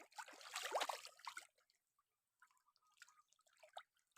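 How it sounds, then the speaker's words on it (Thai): Faint water trickles at a freshwater fish pond stocked with barb fish, a soft splashing rush for about a second and a half, then scattered quiet drips. "ฟัง เสียงน้ำนะครับ"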